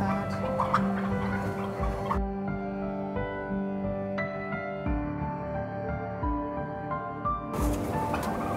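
Turkeys crowded on a large turkey farm, some pecked and sickly, give a dense, steady bird chatter with gobbling calls close by, rising and falling and never letting up.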